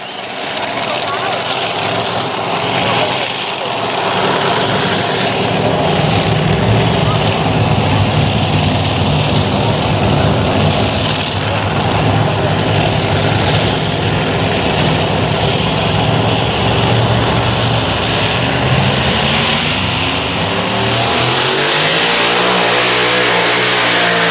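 A pulling tractor roars at a tractor pull at the Sandwich Fair in Illinois, a loud, sustained engine howl that builds and holds for a long run and then winds down near the end, with crowd and announcer voices in the background.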